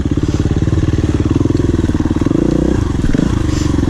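A KTM 350 EXC-F dirt bike riding off-road at NATRA in West Point, Tennessee, its four-stroke engine droning steadily and close with rhythmic pulsing, shifting pitch near the end, under a voice.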